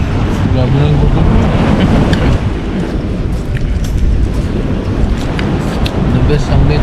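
Waves washing onto a seashore, a steady broadband roar with wind buffeting the microphone throughout, loud and continuous with a slight dip midway.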